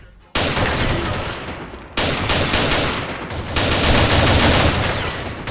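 Video-game gunfire shoots through a window glass pane in sustained, dense automatic bursts, loud and close. There are three long stretches of rapid fire with brief breaks between them.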